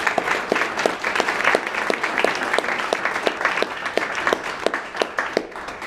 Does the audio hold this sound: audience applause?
yes